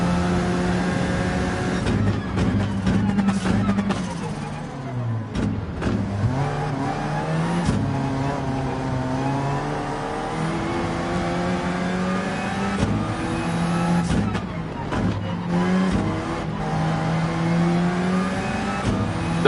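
Race cars in a racing video game on the Fuji course, engines revving and shifting continuously with passing cars and occasional tire squeal, loud and unbroken throughout.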